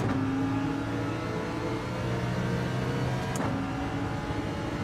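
Racing car engines from a Lamborghini and an Acura NSX in Gran Turismo 7 drone steadily at a low pitch, with a brief sharp click midway and no talk over them.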